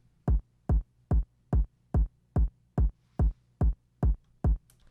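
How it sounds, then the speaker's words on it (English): A steady four-on-the-floor electronic kick drum from a pop build-up, eleven evenly spaced punchy thumps played alone with no other instruments. "All the kick is just a 4 on the floor during the build up"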